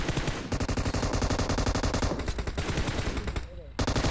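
Rapid automatic M762 rifle gunfire in the PUBG video game, loud, dense bursts of shots continuing through nearly the whole stretch with a brief lull near the end.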